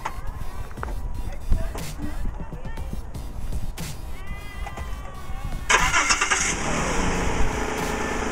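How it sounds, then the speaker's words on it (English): A car with 137,000 miles on it cranks over with people talking nearby, then its engine catches and settles into a loud, close running roar for the last few seconds. "how's the engine run? It runs pretty good."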